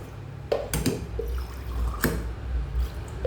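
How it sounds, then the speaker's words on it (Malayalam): Water splashes and trickles in short pours into a mixer jar for kadala chutney, a few distinct gurgling bursts over a quiet kitchen background. "കുറച്ച് വെള്ളം ഒഴിച്ച് അരയ്ക്കാം"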